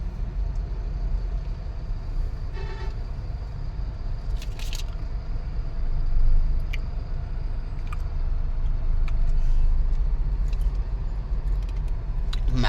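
Heavy, slow-moving road traffic on a drive near Hosur. A low, continuous rumble of engines swells gently, with faint rattles and clinks from inside the vehicle.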